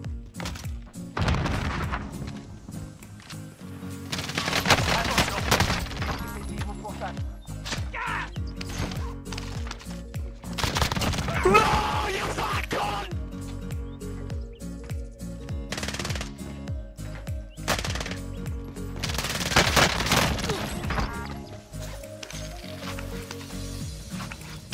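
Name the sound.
gunfire in a video game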